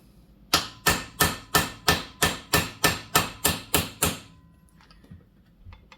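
A hammer drives out a door hinge pin from a full-size Jeep Wagoneer held in a vise, twelve sharp metallic blows in an even, steady rhythm, close and loud, followed by a quiet pause.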